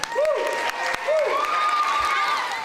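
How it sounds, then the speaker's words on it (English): Schoolchildren at an elementary school applaud in a steady burst of clapping from a crowd, with shouted voices and whoops mixed over it, fairly close and continuous. "Give him a round of applause."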